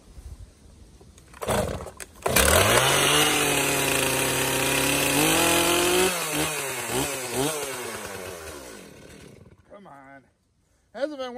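A chainsaw felling a cherry tree and silver maple roars up loudly and close, holding a high rev with wavering pitch, then bogs and sputters toward idle before dying out and briefly catching again.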